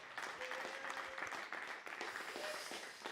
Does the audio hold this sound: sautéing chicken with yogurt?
no